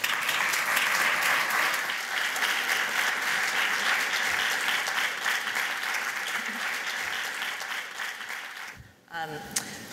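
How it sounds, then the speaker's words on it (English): A conference audience gives a sustained round of applause for panelists walking on stage at a carbon pricing and climate session, dense clapping fading out near the end as a voice begins. "please join me in a round of applause"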